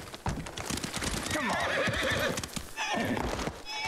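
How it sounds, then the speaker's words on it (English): A horse whinnies loudly in a long, wavering call amid clip-clopping hooves and busy game-like background noise in the video game Ghost of Tsushima. "This horse is athletic."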